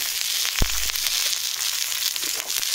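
Chicken 65 with chopped garlic, capsicum, salt and curry leaves sizzling in a pan, a dense continuous fry with a sharp thump of a spatula early on and light scraping stirs after.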